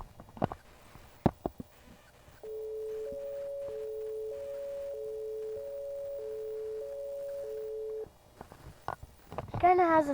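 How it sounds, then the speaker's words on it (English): A synthesized European police siren sounds as a steady two-tone electronic drone held for several seconds, with a voice speaking briefly before and after it. "police siren or ambulance siren or something like that, or firefighter siren"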